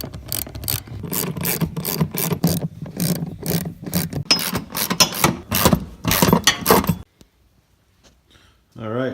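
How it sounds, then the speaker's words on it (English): A ratchet cranks rapidly and loudly in rhythmic clicking strokes while bolting a car seat into a Foxbody Mustang, then stops abruptly near the end, followed by silence and a brief final sound. "So let's bolt her in."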